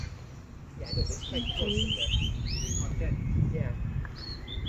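Birds in an aviary in the Elizabethan garden at Kenilworth Castle chirp and trill, with a rapid repeated note and scattered calls, over a low rumble of outdoor background and faint voices nearby.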